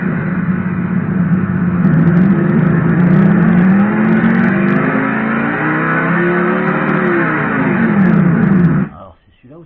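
An ESS One sound module plays a loud, steady car engine rev that rises and falls in pitch for about nine seconds, then cuts off abruptly into quiet.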